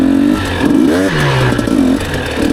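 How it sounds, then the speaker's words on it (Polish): A 2022 KTM EXC 250 TPI two-stroke motorcycle engine revs up and down in close, loud, rising and falling sweeps, with no talking. "Ogólnie ten motor jest strasznie mocny jak na 250. Bardzo fajnie to chodzi."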